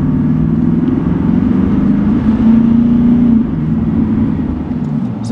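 A Nissan Titan XD pickup accelerates onto a highway, its engine giving a loud, steady low drone from the cabin that rises slightly in pitch as the turbo comes in, then eases off.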